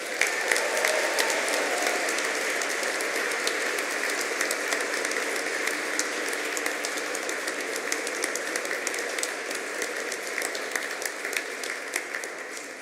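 A graduation and prize-giving ceremony audience applauds in long, sustained clapping that fades slightly toward the end, with no talk over it.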